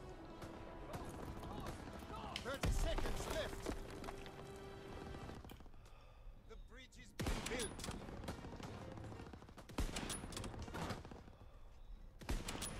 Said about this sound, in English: I'm just shooting with all my might